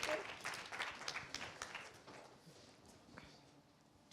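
An audience at a community health meeting applauds to welcome a guest, a faint, distant patter of many hands that thins out and fades over a few seconds.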